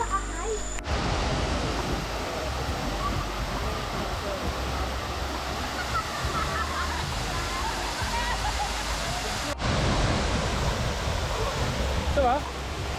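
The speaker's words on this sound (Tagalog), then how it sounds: "After a few minutes hike, ito na kami sa Tay Tay Falls" Tay Tay Falls on Mt. Banahaw pours with a dense, constant roar of water, loud and close. Brief faint voices come through near the end.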